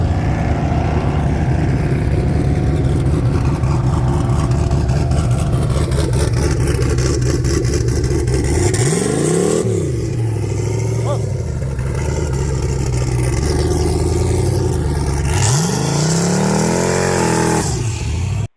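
A 1980 Trans Am with a turbocharged 6.0 LS engine launches down a drag strip on its first run, a loud sustained engine roar with rising and falling pitch sweeps as it accelerates.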